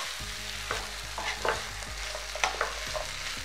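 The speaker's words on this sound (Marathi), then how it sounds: "याचं सगळं असं हलवून घ्या सगळे मसाल्यामध्ये।" A spoon stirs capsicum and potato pieces through spice masala in a pan, with scraping strokes and soft clinks over a low, steady sizzle, close and clear with no talking.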